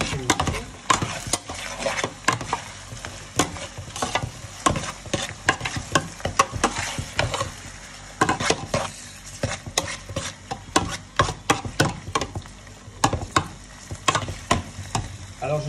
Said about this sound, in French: Je viens mélanger le tout.